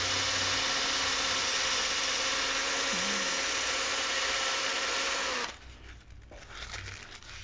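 A power tool sands a small wooden fishing lure, a steady close whirring hum with a faint tonal whine that runs for about five seconds before cutting off to quieter room noise.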